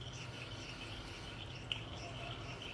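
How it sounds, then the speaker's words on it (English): A deburring tool scrapes around the inside edge of a ring made from a Turkish 100 Lira coin. The scraping is soft, continuous and close, with one small click partway through. "my deburring tool"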